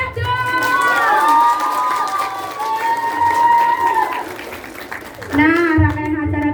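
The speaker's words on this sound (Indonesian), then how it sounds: "Beri tepuk tangan yang meriah dong." A theatre audience at a school stage performance cheers and shouts with voices rising together, loud and sustained, swelling again near the end.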